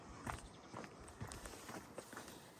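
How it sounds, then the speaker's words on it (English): Footsteps on an outdoor path on a cold, drizzly day, a steady walking rhythm of soft, faint steps against a low background wash. "I'm just walking to the post office."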